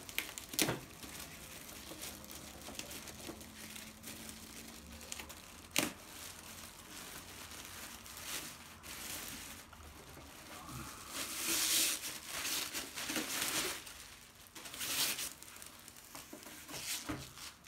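Plastic bags crinkle and rustle while a Denon DP-200USB turntable is unboxed. The handling is quiet and close, with sharp crackles and a few louder bursts spread across the clip.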